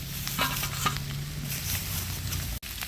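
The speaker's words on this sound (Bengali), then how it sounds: "একদম ভাজা ভাজা হয়ে গেছে আলু টমেটো সব কিছু" Potatoes and ripe local tomatoes fry in a curry pan with a continuous close sizzle and soft scraping stirs, with a low hum underneath and a brief dropout near the end.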